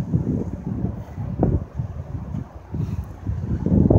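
Gusty wind rumbles and thumps against the microphone on a windy Michigan day in Detroit, coming in low, uneven bursts at moderate loudness as darkness falls.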